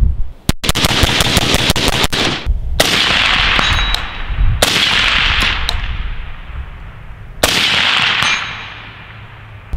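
Suppressed gunshots from a rifle with a 12-inch American Defense Manufacturing upper through a Gemtech ONE quick-detach suppressor: several sharp, loud cracks, a quick early burst then single shots spaced a couple of seconds apart, each trailing into a decaying outdoor echo.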